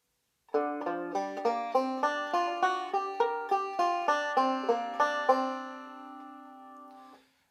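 A plucked banjo plays a short bluesy run of bright, evenly paced notes, then lets the last chord ring and fade out alone.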